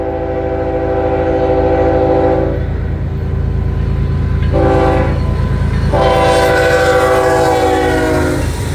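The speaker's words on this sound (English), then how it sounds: "I swear I did not know this train was coming." A BNSF freight train rolls past in Montana, its horn blaring in long loud blasts over the steady rumble and clatter of the passing cars.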